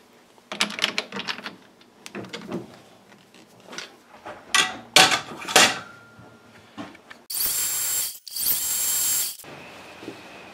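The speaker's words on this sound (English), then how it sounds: "I'm gonna face and center drill that." Lathe facing and center drilling a metal part for a compact rotary broach: irregular scraping and cutting bursts of varying loudness, then two sustained, bright, high-pitched whining passes near the end.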